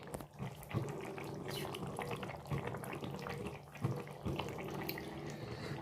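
A kitchen tap runs steadily while things are washed after cooking, a continuous close splashing rush with occasional clunks of items in the sink.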